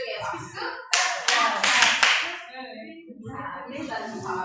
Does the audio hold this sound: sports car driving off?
no